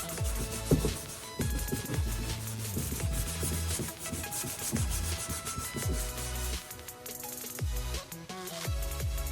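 Coarse 80 grit sandpaper rubbed by hand over a dirt bike part in steady back-and-forth strokes, a close, dry rasping scrape that repeats rhythmically with no talking.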